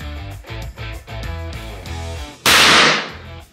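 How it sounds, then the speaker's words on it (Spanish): A powder-actuated nail gun fires one sharp, loud blast that decays over about half a second, following a stretch of rhythmic, thumping background music. "usando la pistola fulminante podrá ejecutar el disparo de los clavos en el lugar exacto"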